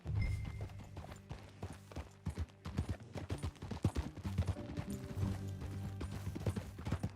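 Horse hooves clip-clop at a steady riding rhythm in Red Dead Redemption 2, loud and close over a low musical bed, with a brief whinny-like sound and no talk.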